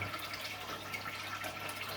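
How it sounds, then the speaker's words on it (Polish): Water from an automatic top-off system trickles and splashes steadily into a 600-litre home aquarium, a soft continuous wash of liquid with a low hum beneath, no voices. "I widać, już wszystko zadziałało. Automatyczna dolewka poleciała."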